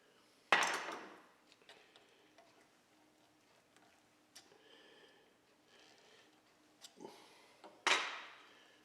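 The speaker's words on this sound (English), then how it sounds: "we gave it a good whack with the hammer" Two sharp, loud metallic hammer strikes ring out several seconds apart during a Model T Ford transmission build, with softer taps and handling noises between them.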